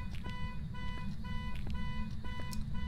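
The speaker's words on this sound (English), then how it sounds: "It'd be nice if it turned off that god-awful car noise alarm" In the horror video game Phasmophobia, a car alarm blares a steady, repetitive electronic tone over low rumbling background noise, with a few sharp clicks scattered through it.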